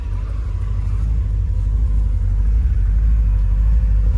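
A Porsche 928 GT S4 with a 5.0 engine and manual gearbox idles with a deep, steady low burble, close and loud, a continuous rumble with no voices over it.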